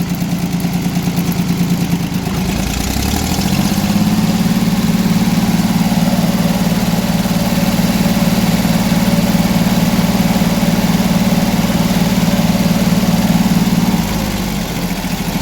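Small sawmill engine with a governor and carburetor running steadily nearby, a loud continuous low throbbing idle that rises slightly in pitch and holds, then drops back near the end, with no talk.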